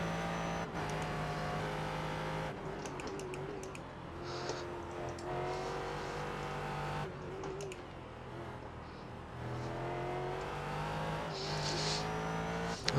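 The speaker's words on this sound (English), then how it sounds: "You can hear the wheels spinning up as I try and get the power down." A GT race car in the iRacing video game revs hard as its wheels spin up under power, the engine note climbing and dropping in repeated surges with brief tire squeal, loud and close with no talk.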